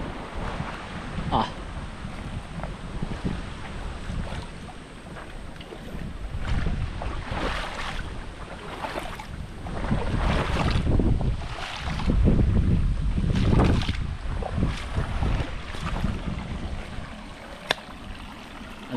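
Rough water churns and slaps around a boat, with steady wind buffeting the microphone and low rumbling surges throughout.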